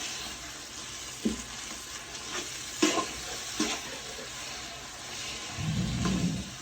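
Yogurt, about 300 grams, goes into a biryani pot, giving a low background sizzle with a few scraping knocks from stirring and a louder surge of frying hiss near the end.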